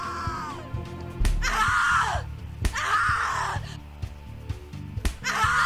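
A character in the Cat Lady horror video game screams in long, loud, strained bursts, three or four drawn-out cries separated by sharp hits, close and dominant over a low background hum.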